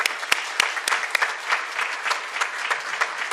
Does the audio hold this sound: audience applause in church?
yes